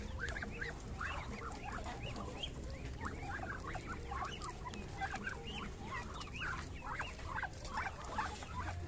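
Ducks and other poultry on a backyard farm call repeatedly, a dense stretch of quacking and clucking close by over steady rustling background noise, with no talking.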